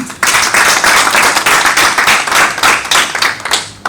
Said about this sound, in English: I request that we really clap for these 2 women